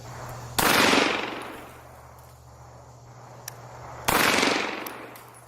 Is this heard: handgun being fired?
yes